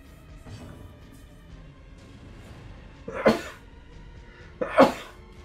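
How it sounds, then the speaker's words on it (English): Two sharp sneezes burst out about a second and a half apart, close and fairly loud, over a quiet background with no speech. "I might sneeze."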